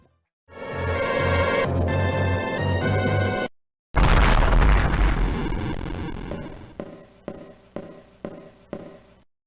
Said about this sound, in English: Samus makes her way to the environments when another explosion occurs.